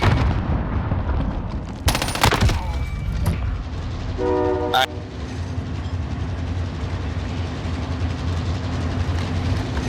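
A train rolls past in the Call of Duty Warzone battle royale game, with a steady low rumble throughout, a burst of gunfire early on and a loud horn blast near the middle.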